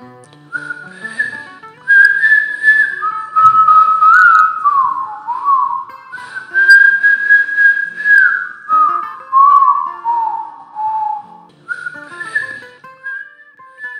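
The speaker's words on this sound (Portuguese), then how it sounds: "Vamos, assobiando." A person whistles a long, wandering tune alone, with sustained melodic phrases rising and falling, loud and close, pausing briefly between passages.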